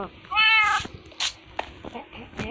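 A cat in the Minecraft video game meows loudly once, a clear drawn-out in-game call, with background game sounds and brief voice activity around it.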